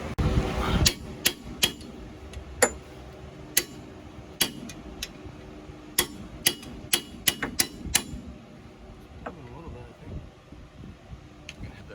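Sharp metallic hammer strikes on a punch ring out in an irregular series, about a dozen blows on a bolt at a 2000 Jeep Cherokee front axle, close by, with brief pauses and low background noise.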